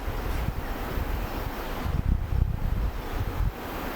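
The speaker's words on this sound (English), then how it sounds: "we have a little more wind from right to left now" Wind gusts buffet the microphone at an outdoor shooting range, a steady low rumble with stronger surges midway, no talking.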